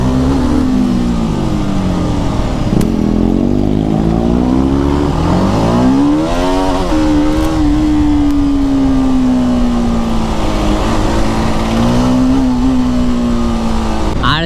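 Motorcycle engines rev hard and steadily during a street burnout at an Independence Day bike-stunt gathering, a loud continuous roar that rises and falls in pitch for the whole stretch.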